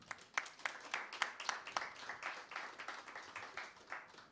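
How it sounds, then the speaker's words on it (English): A small audience at a Thursday night live program claps for two helpers behind the counter, a thin, quiet patter of separate hand claps in an uneven rhythm. "Give them a round of applause"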